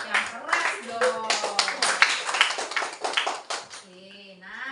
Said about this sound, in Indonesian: Tepuk tangan dulu buat Bri Puspita.